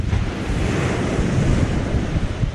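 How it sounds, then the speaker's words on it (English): Ocean surf rolling in on an incoming tide at Hemsby, Norfolk, a dense continuous wash of breaking waves with heavy wind buffeting the microphone, close and without speech. "The tide is coming in, so we can't be too long."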